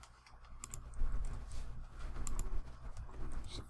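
Keys clatter on a computer keyboard while Blender shortcuts such as Shift D are entered: a quick, uneven run of soft clicks and taps, close and fairly quiet, with a low room hum underneath.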